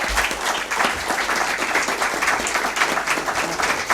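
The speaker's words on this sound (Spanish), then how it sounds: "Un aplauso para ella" An audience applauds a speaker after a talk, with steady, close clapping throughout and a few voices faintly mixed in.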